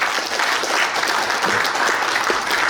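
Loud, dense applause from a crowd at a union branch delegates' assembly in Gyeongju, sustained steady clapping filling the whole moment without pause.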